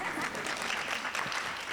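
At a youth expo, a short burst of dense, steady applause from a crowd, heard at a moderate distance.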